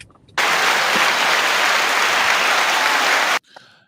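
Audience applause for radio and TV networks breaks out suddenly, then holds as a dense, loud, steady roar of clapping for about three seconds before stopping abruptly.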